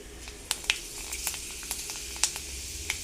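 Fenugreek seeds crackling and sizzling in hot oil for a gooseberry pickle, a steady soft frying hiss punctuated by scattered sharp pops, fairly quiet and close.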